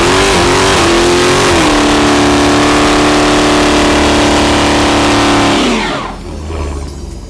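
A 2020 Dodge Challenger Hellcat Redeye engine revs hard and holds a loud, steady roar during a line lock, then drops off sharply near the end.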